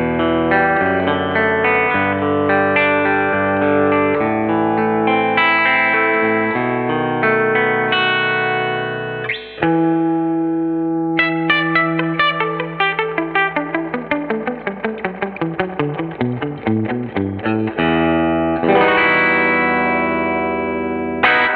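Clean Fender Telecaster plugged straight into an amp with its reverb set at 5, playing chords and melodic runs with a roomy spring reverb tail, steady and moderately loud throughout, no voices.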